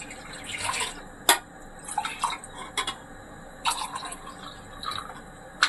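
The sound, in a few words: milk being poured for white sauce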